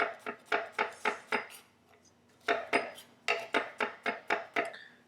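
A knife taps steadily through garlic cloves on a cutting board, making thin slices in quick, even bursts of crisp clicks, with a short pause midway before the rhythmic chopping resumes close up.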